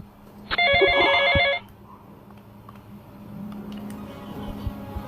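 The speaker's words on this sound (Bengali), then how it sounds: "আমার একটা কল আসছে" A phone rings with an incoming call, a bright electronic ringtone trilling loudly for about a second before it stops, followed by quiet room noise with faint movement.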